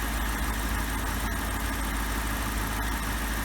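A BMW E64 650i V8 engine running at idle with a PCV valve fault and exhaust smoke, a steady, close rumble with a constant low hum and no voices.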